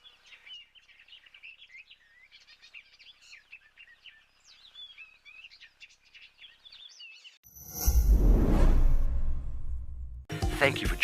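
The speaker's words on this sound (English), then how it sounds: "Still nice just to listen to all the other bird vocal that is about at the moment too." Various wild birds calling outdoors, a busy mix of chirps and whistles for about seven seconds, faint and at a distance, then a loud rumbling noise and a cut take over.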